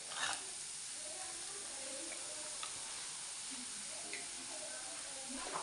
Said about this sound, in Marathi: तुम्हाला आवाज येत असेल, छान असा परतण्याचा आवाज येत असेल.